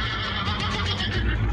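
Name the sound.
horse-man monster neighing while chasing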